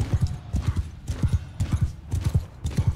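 Rapid clip-clop of a horse galloping in Mount & Blade 2: Bannerlord, loud and close in steady repeated bursts of hoofbeats.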